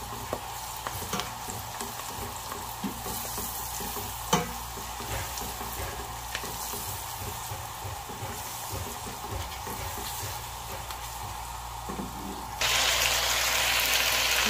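Chopped ginger and garlic fry in a pan with a steady close sizzle and occasional stirring scrapes, and the frying grows louder and brighter near the end.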